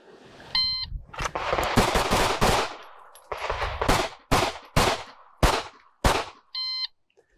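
Handgun shots at a shooting range qualification course crack out in quick bursts followed by spaced single rounds, loud and close, framed by an electronic start tone at the beginning and end.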